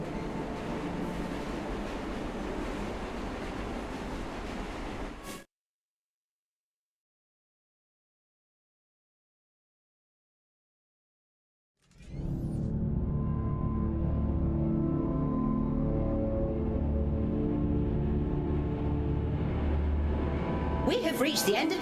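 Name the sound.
train in the video game Luna Abyss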